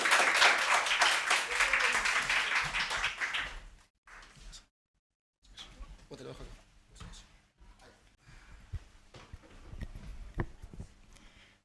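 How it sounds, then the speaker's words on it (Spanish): At a presentation event in Chile, an audience claps warmly for a few seconds to welcome a speaker on stage, then the applause cuts off abruptly and scattered faint room sounds and shuffling follow. "La recibimos con un fuerte aplauso."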